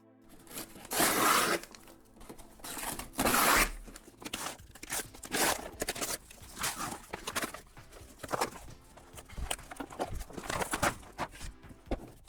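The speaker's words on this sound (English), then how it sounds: "There is no better way to unbox gracefully this outer shell, so I'm just gonna go ahead and rip it." Cardboard outer shipping box of an Alienware M15 R6 laptop being ripped open by hand, a run of sharp tearing and scraping bursts of varying length at close range, alone with no talk.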